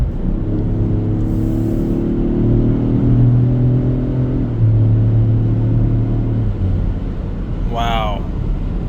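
A 2026 Toyota GR Corolla with its turbo engine pulls hard at full throttle, a loud cabin drone climbing steadily in pitch for several seconds before easing off, with a brief voice near the end.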